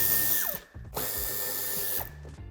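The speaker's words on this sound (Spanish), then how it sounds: "en ambas esquinas quitaremos el tornillo de Torx de 25" A power driver spins out Torx 25 screws from the bumper corners of a 2013–2017 Škoda Octavia III five-door. Two close, loud whirring runs rise and fall in pitch, separated by short gaps.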